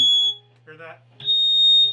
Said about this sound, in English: That's a microphonic pickup.